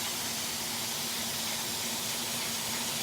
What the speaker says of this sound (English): You can hear the sear in there.